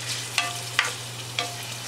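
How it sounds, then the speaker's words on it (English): Onions sizzle in a saute pan on the stove, a steady close frying hiss broken by a few sharp clicks of stirring. "And now we're starting to sizzle over here, so I'm turning it way down."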